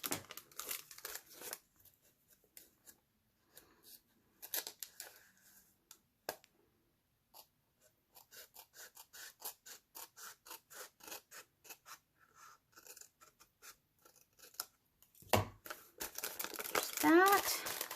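Scissors snip through paper to make double envelope pocket inserts for junk journal signatures, with a run of short crisp cuts and paper rustling, close and fairly quiet, alone with no talk.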